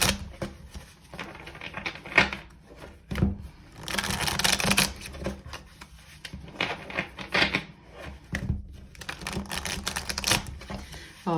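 Tarot cards being shuffled during a reading, producing repeated bursts of papery riffling and soft slaps in uneven clusters, close and fairly quiet with short pauses between.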